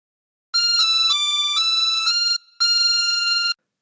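A chromatic harmonica plays a phrase of the Star Spangled Banner alone and close, several steady reedy notes in a short legato line, a brief gap, then one long held final note.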